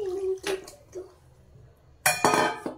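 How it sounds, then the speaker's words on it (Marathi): Water is poured along the edges of a hot pan of besan patodi curry, starting as a sudden loud rush and splashing hiss after a quieter stretch with faint clinks. "हे बघा पाणी आपण कडेकडेने सोडूया"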